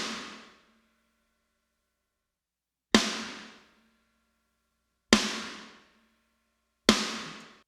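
Isolated drum trigger track from a live drum recording, sent in by the drummer: four sharp percussive hits, the first followed by a long silence and then three more spaced about two seconds apart, each decaying quickly, with no other sound.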